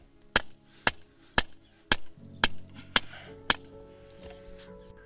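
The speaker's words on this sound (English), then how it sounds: "I'm pounding in some rebar to hold the mesh against the walls of the hole" Rebar is hammered into the ground in a hole lined with mesh: seven sharp, evenly spaced metallic strikes about half a second apart, close and loud, then a quieter tail.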